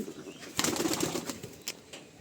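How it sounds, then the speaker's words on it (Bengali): Pigeons rustle and flap their wings up close, with soft scuffling and a brief burst of feathers. "এই দুইটা একজোড়া কবুতর"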